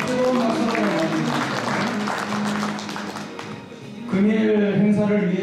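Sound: audience applause welcoming guests

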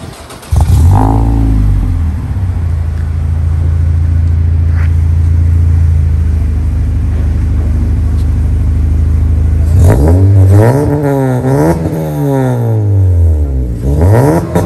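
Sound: naturally aspirated Honda Civic engine revving

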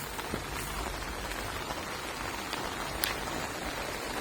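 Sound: rain

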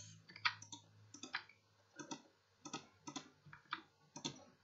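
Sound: computer mouse being clicked rapidly

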